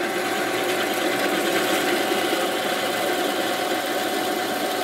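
A homemade plug-cutter drill bit spins and cuts in a steady, continuous whir with dense broadband grinding. It is close and alone, with no speech.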